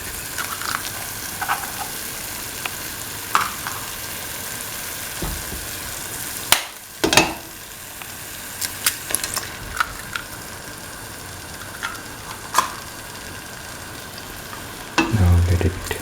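Egg, tomato and vermicelli frying steadily in a pan, a continuous close sizzle with occasional sharp clicks and a brief clatter near the end, no voices.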